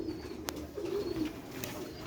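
Old pure-breed Sialkoti bataire pigeons coo in a low, rolling burr, soft and fairly close, with a couple of sharp clicks and no talking.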